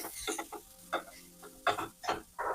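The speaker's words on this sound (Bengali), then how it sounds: "এবার এটাকে আমরা ভালো করে নেড়ে নেব।" A spoon stirs beetroot burger stuffing in a pan, a few quiet scraping and shuffling strokes with short pauses between them.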